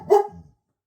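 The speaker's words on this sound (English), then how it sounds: "There is no barking necessary." A dog gives a single short, sharp bark close by, followed by silence.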